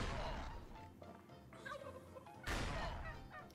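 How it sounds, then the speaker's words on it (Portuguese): A chicken jutsu attack in a Naruto jutsu simulator video game, with bursts of clucking and gobbling fowl calls over busy game effects and a sharp crash partway through. "O Jutsu da Galinha tá aqui."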